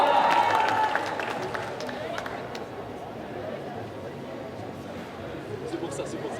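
Audience applause for a contestant at a cosplay competition during an otaku festival, starting loud and quickly settling into a steady, quieter crowd clapping with background chatter, and a voice speaking briefly at the start.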